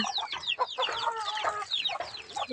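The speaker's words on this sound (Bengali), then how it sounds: "এই যে আমাদের মুরগিগুলো" Several chickens cluck and squawk close by in a busy, overlapping chatter, one now and then rising into a louder call.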